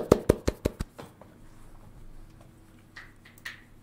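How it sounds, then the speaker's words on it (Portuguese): A few people clap for Gustavo during a casual online work session, about five sharp, close hand claps in quick succession that stop after a second, followed by quiet room tone and a couple of faint soft knocks. "palmas pro Gustavo aí"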